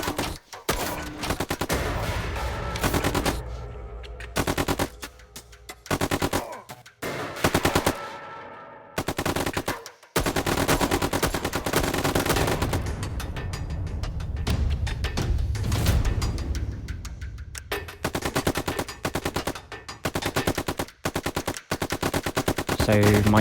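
Summoned firing squads in a tower defence video game, loud sustained bursts of rapid gunfire rattling almost continuously, broken by brief gaps.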